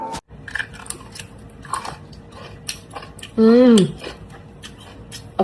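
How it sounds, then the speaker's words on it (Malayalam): Crunchy bites and chewing close up, crisp cracks scattered among talk, with one voice loudly rising and falling midway. "കറുമുറ സൗണ്ട് കണ്ടോ?"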